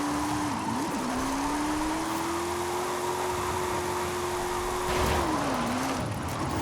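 A classic Maserati in Forza Horizon 5 holds a steady engine drone that rises in pitch, dips briefly near the start, then drops and climbs again toward the end, with faint tire noise.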